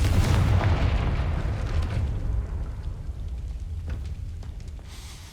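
A Confringo blasting spell explodes in Hogwarts Legacy with a loud, deep boom at the outset, then a long rumbling decay with faint crackling debris fading over several seconds.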